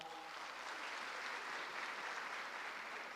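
A steady, dense wash of applause from an audience rehearsing for an induction ceremony of newly qualified medical and dental practitioners, moderately distant and fairly soft, holding evenly for a few seconds without a break.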